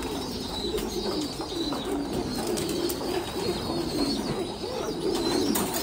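A fantail pigeon coos in soft, repeated low throaty calls, close by, with faint chirps and a thin steady high whine in the background.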